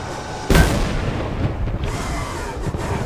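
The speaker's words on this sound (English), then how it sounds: "Squeeze your main trigger to fire the tank's cannon." A tank cannon fires in the Medal of Honor Above & Beyond VR game: one sudden, loud blast followed by a heavy, sustained rumble that stays loud to the end.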